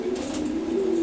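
Young silver gora pigeons, around four to five months old, give a soft, low, steady coo close by, alone.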